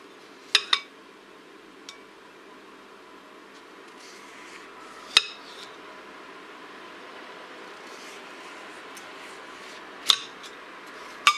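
A newly sharpened sashimi knife cuts a lemon on a quiet surface, giving a few faint slicing sounds punctuated by several sharp, bright clicks and taps of the blade spaced several seconds apart.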